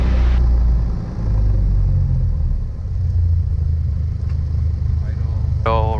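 A light aircraft engine idles on the ground after the throttle is pulled back, a steady low rumbling drone held throughout, close and loud, with a brief tonal whine near the end.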